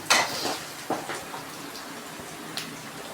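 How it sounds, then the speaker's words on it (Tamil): Garlic and onions sautéing in a pan for a fenugreek tamarind curry, with a few scraping stir strokes and soft crackles that fade to a low steady sizzle, close and fairly quiet with no talking. "இப்போ இந்த பூண்டும் வெங்காயத்தையும் நல்லா வதக்கிக்கலாம்."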